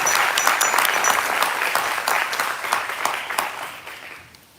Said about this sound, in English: Let's give him a round of applause as we welcome our Sheriff to the podium.